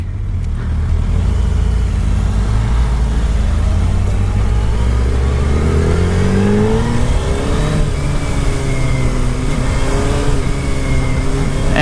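A 2019–2020 Suzuki Hayabusa motorcycle engine while riding, loud and close, revving up through the gears with rising, falling pitch sweeps and a steady throaty roar throughout.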